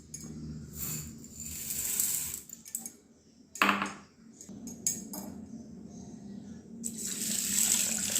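Rice gets washed by hand in a pot of water in a home kitchen before being cooked in a pressure cooker: splashing, swishing and gushing water in uneven bursts, with faint clinks of the vessel.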